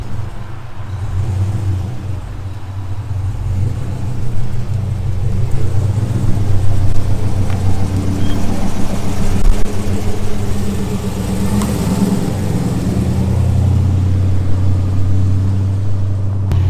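A 1955 Chevy's engine idles steadily with a deep, continuous rumble, close by and loud, with a few small swells in revs and no voices.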